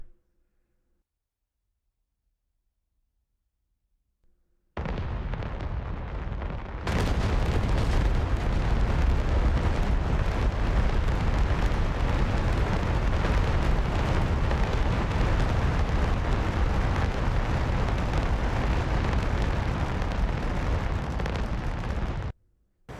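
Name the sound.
cluster bomb explosions from JF-17 GB6-SFW weapon in DCS World video game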